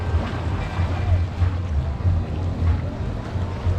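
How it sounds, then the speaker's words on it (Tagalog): Waves splash and slap near a boat on the water in Camarines Sur, a rough, rhythmic sloshing with a low engine-like rumble and wind noise, close and fairly loud. "Wala, ang tagal ng talsik ng alon."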